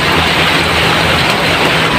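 Heavy rain pours steadily in a loud, unbroken hiss during a rainy-day home vlog, with no talking over it.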